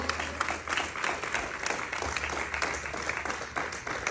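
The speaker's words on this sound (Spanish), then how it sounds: "Dale un aplauso al Señor." A congregation at a revival service claps in a steady, rhythmic beat, with repeated pulses of many hands striking together at a close, lively level.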